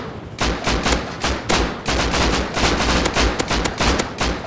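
Rapid bursts of loud gunfire in the video game Rust, aimed at a helicopter pilot, rattle almost continuously, sharp repeated shots like automatic weapons, with no talking over them.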